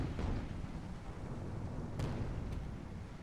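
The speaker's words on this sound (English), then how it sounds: "Dragon's Rage letting out a preliminary Hwacha barrage." A Hwacha rocket barrage fires in a medieval strategy video game skirmish, a dense rumbling roar of overlapping launches with a couple of sharp cracks breaking through, steady and loud throughout.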